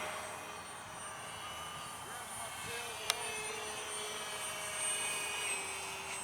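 A remote-control Star Trek-style starship model with a 2208 1800 kV motor in the nose flies with a steady high-pitched propeller whine, faint and continuous, the pitch shifting slightly as it passes, with a brief sharp click midway.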